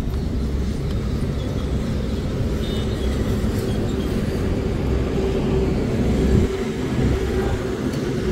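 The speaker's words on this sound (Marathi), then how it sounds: "समजल गाडी चालू झाली" A motorcycle engine, just started, runs with a steady, close low rumble for the whole stretch, with no one talking over it.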